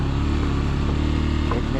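Motorcycle engine on a mountain ride in Arunachal Pradesh, a loud steady close-up drone with a low throb running throughout.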